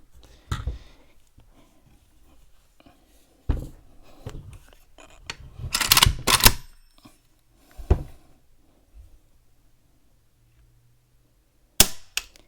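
Dry-fire trigger clicks of a milled WBP Mini Jack AK47 pistol from Poland, a few sharp, isolated metallic snaps with short handling rattles between them, close and dry in a quiet room.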